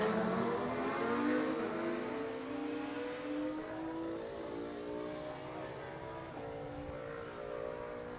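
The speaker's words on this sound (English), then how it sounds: "So all the machines now have left the grid." Race motorcycles pull away from the starting grid at the Cookstown 100 road races, a loud blended engine roar that rises in pitch as the machines accelerate, then eases into a steady fading drone as they move off into the distance.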